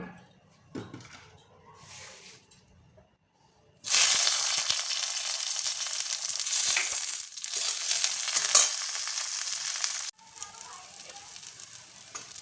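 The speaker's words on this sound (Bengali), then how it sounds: "আর একটু আমি সর্ষের তেল দিলাম দিয়ে আমি বেগুনগুলো ভেজে নেব" Eggplant pieces frying in mustard oil in a pan, a loud, dense sizzle that starts abruptly after quiet handling sounds and holds steady for several seconds before cutting off, close by, with no talking.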